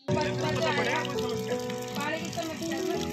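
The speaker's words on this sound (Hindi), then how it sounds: "टूटी हुई टोटी से बिखरने वाले पानी को फव्वारा समझकर गांव के बच्चों को खेलते देखा होगा, लेकिन ये महिलाएं उससे अपनी जिंदगी बचाने के लिए पानी भर रही हैं" Water sprays and gushes from a broken tap in a Rajasthan village as women fill containers, a steady rushing splatter with shifting pitch as vessels fill, heard close and continuous.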